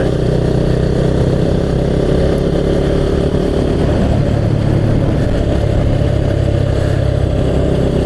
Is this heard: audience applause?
no